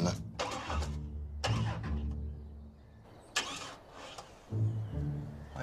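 A car engine cranks repeatedly in several bursts of starter churning, failing to catch, fairly close and loud, with no talk over it.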